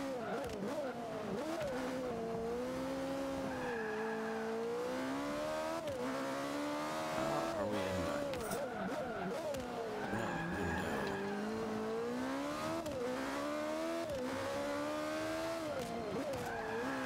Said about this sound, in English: And we're spinning and sliding and swerving.